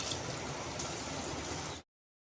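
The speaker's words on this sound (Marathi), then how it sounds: "तीन ग्लास पाण्याचा वापर करतोय आपण" Water pours steadily into a cooking pot for Khandesh-style palak masala khichdi, three glasses going in over spiced masala, a continuous close splashing gush that stops abruptly.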